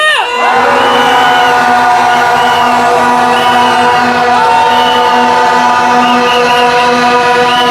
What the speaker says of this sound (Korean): 야유의 함성 질러보겠습니다